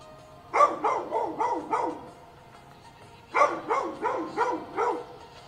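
A puppy barks close by in two rapid bursts of about five yips each, separated by a short pause, loud and alone.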